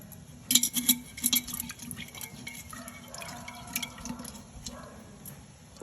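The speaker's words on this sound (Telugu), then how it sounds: "నేను కొద్దిగా ఒక చుక్క నీళ్ళు పోస్తున్నాను దీంట్లో" A little water is poured into ginger garlic pickle, heard as a cluster of close, bright drips and small splashes at the start, followed by quieter trickling and faint dribbles.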